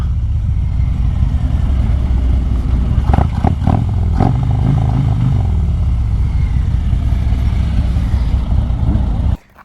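Several Harley-Davidson motorcycles rumble steadily into Princeton Battlefield State Park, their engines loud and close. A cluster of sharper revs and clatter comes midway, and the sound cuts off abruptly at the end.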